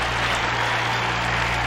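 Crowd cheering and applauding in the Bug Fables video game, a steady dense wash of clapping and cheers holding at an even level throughout, with no talk over it.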